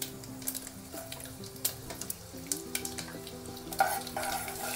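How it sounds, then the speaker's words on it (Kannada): Mustard seeds splutter in hot oil while tempering for vangi bath: close, crackling sizzle with irregular sharp pops over a low background hum, and no voices. "ಸಾಸಿವೆ ಚಟಪಟ ಅನ್ನೋವರೆಗೂ ವೆಯ್ಟ್ ಮಾಡಿ"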